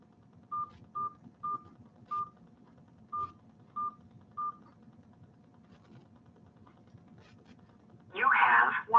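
Phone keypad tones beep while someone checks a voicemail, seven short evenly spaced beeps at close range in a quiet room, followed by a brief louder burst at the end.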